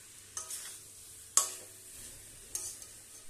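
Jackfruit curry with boiled potatoes is stirred in a pan with a little oil and water, giving a soft, faint sizzle broken by a few sharp scraping clicks of a spoon against the pan.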